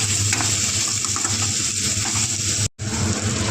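Spice paste with garam masala frying in a pan hisses in a steady, loud, close sizzle with faint stirring clicks, broken once by a brief dropout near the end.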